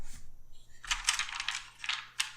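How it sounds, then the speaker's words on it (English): Dice tumble and clatter inside a small wooden dice box lined with soft material, with a few quick rattling bursts that sound muted and close. "you can roll the dice there"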